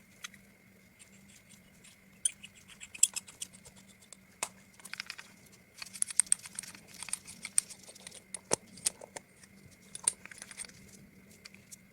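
Small metallic clicks, taps and light scraping come in irregular bursts, close and quiet, as an adjustable coffee tamper is twisted and extended.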